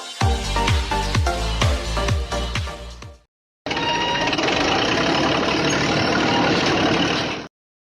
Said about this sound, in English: Hydraulic shovel excavator.